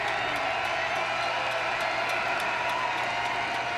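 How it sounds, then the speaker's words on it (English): A college football stadium crowd at East Carolina versus UConn roars steadily on third and ten, a dense, continuous wash of cheering with faint talk mixed in. "Crowd coming alive on 3rd and 10."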